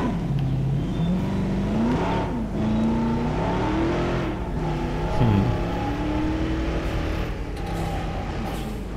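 A car engine in Jurassic World Evolution revs and whines steadily while weaving through a slalom, its pitch rising and dipping with each turn, loud and continuous for the whole stretch.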